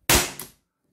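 One sharp, loud shot from a Walther PDP Compact T4E CO2 airgun in .43 caliber, a sudden crack with a short decaying tail and a brief second burst, then silence.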